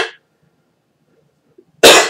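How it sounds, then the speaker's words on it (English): A single sharp cough bursts out near the end after near silence, loud and close, with a brief trailing sound at the very start. "Forgive me, I have a cough"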